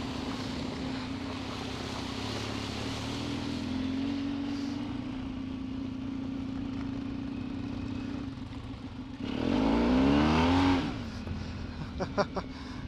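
Off-road motorcycles, a Yamaha XTZ 750 and a BMW F650 GS Funduro, riding in a group on a trail: a steady engine drone rises into a louder revving pass near the end, with wind noise throughout.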